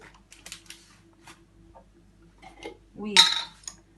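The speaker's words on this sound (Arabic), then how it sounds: "معلقه صغيره اهي، ادوبها كده في اللبن" A small spoon stirs baking powder into milk, giving a few light clinks against the container and a louder scraping clatter near the end, with quiet stretches between.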